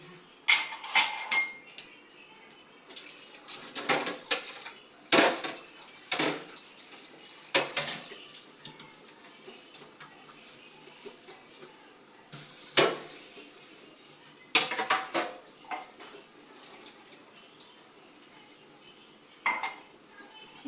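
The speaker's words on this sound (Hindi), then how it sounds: "बस जल्दी जल्दी से बर्तन धोते हैं" Dishes, pots and utensils being washed in a home kitchen, with repeated clinks and clatters of metal and ceramic in irregular bursts against a low background of running water and handling noise.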